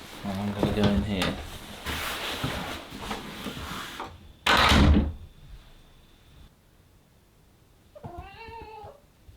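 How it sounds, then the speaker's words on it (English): A cat in a forest home working a door open, with rustling and knocking, a sharp loud thump of the door, and later a short meow, while a person talks nearby. "Trying to see Silky opening the door"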